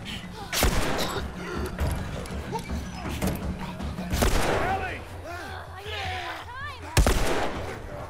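Gunfire from The Last of Us Remastered on Survivor difficulty: three loud, sharp shots spaced a few seconds apart, with chirping game sounds and faint background noise between them.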